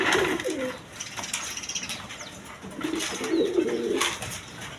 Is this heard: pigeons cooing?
yes